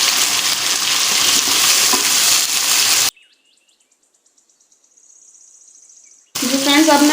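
Ground tomatoes hit hot oil in a pan for mutton korma and sizzle loudly. The sizzle cuts to near silence with faint bird chirps, then the sizzling returns.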